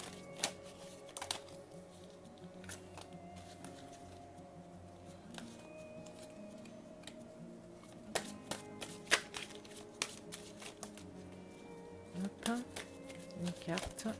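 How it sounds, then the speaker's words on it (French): Oracle de la Triade cards are shuffled and drawn in a series of soft riffles, slaps and taps of varying loudness, with a voice talking at times over them. "on va tirer 2 cartes de l'oracle de la triade"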